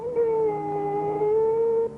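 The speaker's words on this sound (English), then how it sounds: "Can't you make that dog shut up?" A dog howls in an old western TV show, one long steady wavering howl held for nearly two seconds, loud and close with no talking.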